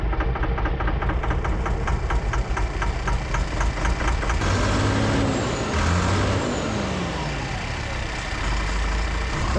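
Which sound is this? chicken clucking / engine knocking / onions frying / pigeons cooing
engine knocking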